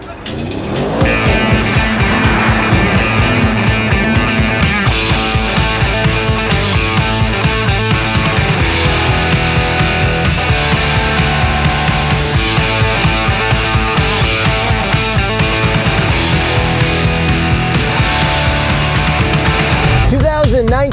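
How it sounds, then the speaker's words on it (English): 600hp Mercedes-AMG cars drift on a frozen lake in Gimli, Manitoba, with loud, steady engine roar and tire noise that runs without a break from start to end, close and dense. "We are drifting AMGs on a frozen lake in Gimli, Manitoba."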